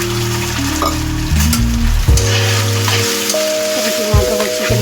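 Tomatoes fry with sautéed onions in a pan, a loud close sizzle under a sustained humming tone that shifts pitch, with occasional spoon scrapes.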